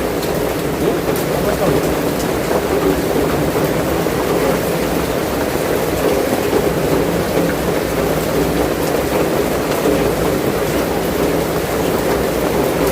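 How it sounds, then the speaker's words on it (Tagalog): Heavy rain pours steadily, a loud dense hiss and roar without letup, with low rumbling underneath and faint voices partly masked. "Grabe lakas ng ulan."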